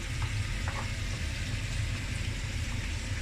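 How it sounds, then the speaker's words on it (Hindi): Marinated butter chicken pieces shallow frying in butter and oil, a steady close crackling sizzle with a low rumble beneath, continuous and even throughout. "अब मैं इसको शैलो फ्राई करती हूँ"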